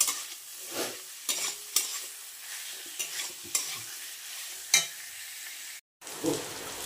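A spice paste (masala) fries in a pan, with a low sizzle under intermittent scraping strokes of a spoon, each stroke loud and close, and a brief moment of silence near the end.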